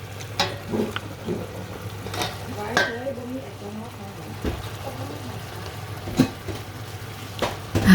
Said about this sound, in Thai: พริกลงผักลงไปนะคะ แล้วก็คนเสร็จแล้วค่ะ